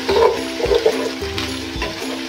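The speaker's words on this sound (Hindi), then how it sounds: "अब हम इसमें ऐड कर देंगे अदरक और लहसुन का पेस्ट, बिस्मिल्लाह, और इसे थोड़ा सा सौते करने के बाद" Ginger-garlic paste sautéing in a pan, a soft steady sizzle with a few scraping stirs of a spoon against the metal, heard up close without any talking.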